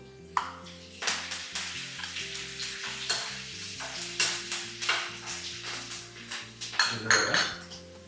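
Cashews frying in oil with curry leaves for coconut venpongal, a close, steady sizzle with repeated spoon scrapes and knocks against the pan, over faint background music and no talking.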